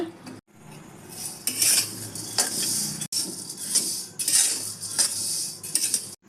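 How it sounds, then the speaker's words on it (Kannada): Urad dal dry-roasting in a pan, the lentils rattling and scraping as a metal spoon stirs them in quick repeated strokes, with clinks of utensil on pan and a faint sizzle underneath. "ನಾನೀಗ ಉದ್ದು ಹುರ್ಕೊತಾ ಇದ್ದೀನಿ ಇದು ಸ್ವಲ್ಪ ಕೆಂಪಾಗೋವರೆಗೂ ಹುರಿಬೇಕಾಗತ್ತೆ"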